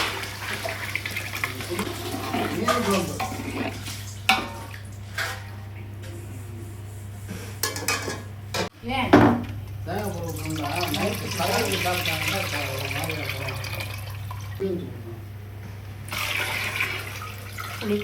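Water is poured into a pan of spicy Tamil-style fish curry with tamarind, green chilli, curry leaves and tomato, a steady running splash over a constant low hum, with occasional clatter and some speech.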